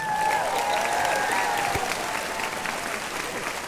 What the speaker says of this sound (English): How about another round of applause for Brad Smith